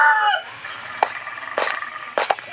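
A rooster crows several times in short bursts, loud and fairly close, with brief pauses between calls and no talking.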